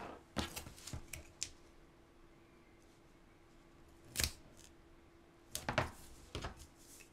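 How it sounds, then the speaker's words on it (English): Adhesive tape being pulled and pressed onto a craft Valentine's mailbox, a few short sharp crackling rips near and close, separated by quiet pauses. "then I'll run a strip of tape right here to make sure that I have good coverage"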